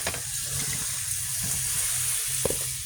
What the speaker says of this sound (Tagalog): Mainit na tubig yung nilagay namin guys para madaling maluto